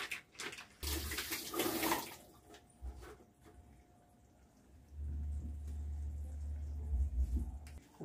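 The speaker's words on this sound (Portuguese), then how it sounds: "A gente põe um pouquinho d'água, gente, para tirar o que tem dentro" Water poured into a kitchen container to rinse out the leftover contents while cooking, a soft splashing pour followed by a longer running trickle, quiet and close.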